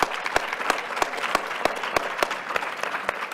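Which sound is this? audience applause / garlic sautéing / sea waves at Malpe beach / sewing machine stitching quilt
audience applause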